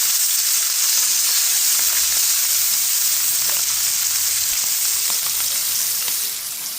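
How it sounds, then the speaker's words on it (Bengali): Hilsa fish fries in a pan with a loud, steady, close sizzle and hiss that holds throughout, with no talking. "রান্না করা হচ্ছে ইলিশের ভাজি।"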